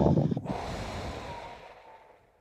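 One long, deep breath close to the microphone, a full airy exhale that fades gradually to quiet.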